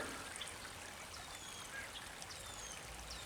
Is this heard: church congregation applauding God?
no